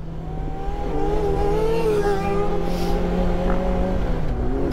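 A motorcycle engine revs hard and steadily through a wheelie, loud and close, with its pitch wavering slightly as the throttle is held.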